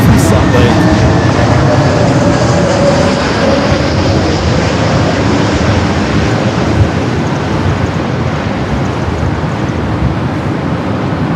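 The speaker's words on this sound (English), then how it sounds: "Let's go to our next arrival, the Delta A321 coming in from Salt Lake." A Delta Airbus A321 arriving from Salt Lake City at LAX makes a steady, loud, broadband roar of engines and rushing air that holds level throughout, with a slight fade toward the end.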